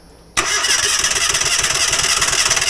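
A Falcon 4-stroke engine cranks briefly and catches abruptly, then settles into a loud, steady, close running chug with no talk over it.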